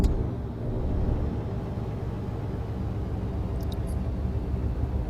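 A steady low rumbling drone of a Volvo FH16 Classic truck with a 51-tonne load slowing on its retarder in Euro Truck Simulator 2, constant and close, with a brief faint high chirp near the end.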